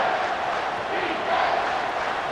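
A stadium crowd in the College Football 25 video game, Georgia Tech versus Georgia, roars on third down, a dense, steady wall of cheering that swells slightly midway.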